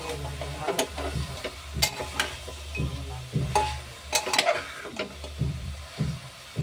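Chicken feet fry in a pan for soup, stirred with a utensil that scrapes rhythmically across the metal in repeated strokes over a steady low sizzle, close and fairly loud.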